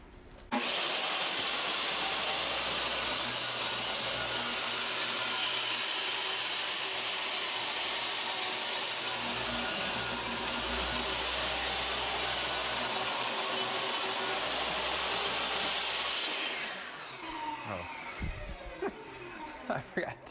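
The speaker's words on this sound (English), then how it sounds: "I'm going to rip this plywood down to 10 inches wide." Plywood being ripped to width on a power saw: a loud, steady, close whine of the blade cutting through the sheet for about sixteen seconds, then dropping off to quieter clunks and handling noises as the cut ends.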